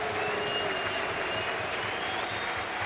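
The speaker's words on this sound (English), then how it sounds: "he's shown plenty to provoke the applause of the home support here today" The home crowd at a Premier League football match between AFC Bournemouth and Hull City applauds in a steady, sustained wash of clapping from a large stadium audience.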